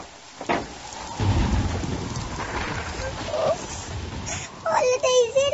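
Rain and a thunderstorm as a sound effect in a storybook tale: a steady wash of rain with low rumbling thunder continues throughout, and a voice speaks over the storm near the end.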